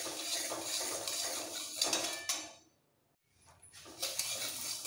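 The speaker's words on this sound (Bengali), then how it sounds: "ডালটা দেওয়ার পর একটু নাড়াচাড়া করে 2 মিনিট হালকা লাল করে ভেজে নেব।" Golden mung dal is dry-roasted in a pan with a steady dry rattling scrape as it is stirred, close by. A short pause in the middle is followed by more stirring.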